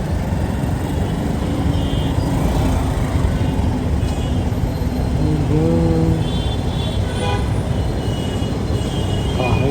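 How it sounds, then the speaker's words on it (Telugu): Dense, steady road traffic in Hyderabad recorded from a moving motorbike: a constant loud roar of engines and wind, with a brief horn-like toot partway through and no speech. "అయ్యో ఎంత ట్రాఫిక్ ఉందా ఇటు సైడ్"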